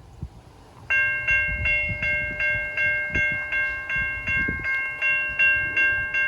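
Train passing the Main Street railroad crossing in Memphis, Tennessee, with the crossing bell ringing in a steady repeating rhythm over rumbling, clattering rail noise, loud and close.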